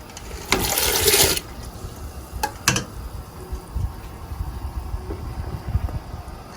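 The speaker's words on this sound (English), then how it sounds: "So now I'm gonna add my green peas." Green peas tipped into a pot of Grenadian soup at a gentle simmer, a loud watery pour and splash lasting about a second, followed by two brief splashy thuds and then low background noise.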